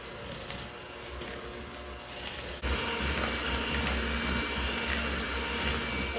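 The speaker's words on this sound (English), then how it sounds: "we're going to beat this until it's nice and creamy" An electric mixer beats softened butter with white and brown sugar, whirring steadily and loudly throughout. Partway through, the motor steps up to a louder, fuller hum.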